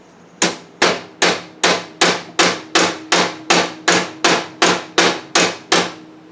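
A hammer strikes a 1971 Honda CB175 motorcycle frame fifteen times in an even, steady rhythm, each blow a sharp, loud metallic knock that rings briefly, close by and alone.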